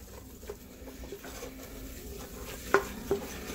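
Butter and flour are stirred together in a pan for a roux, giving soft scraping and faint sizzling with a couple of small utensil clicks near the end.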